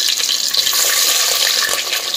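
Onions, green chillies and curry leaves fry in oil for a sardine curry, a loud, dense, continuous hiss of close sizzling with small pops.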